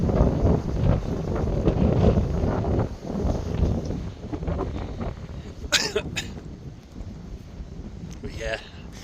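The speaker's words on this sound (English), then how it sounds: "Flapping around in the wind there." Storm wind roars steadily across the microphone at a backyard fence beside a shed, with gusty low rumble throughout and a few brief sharp rattles or flaps near the end.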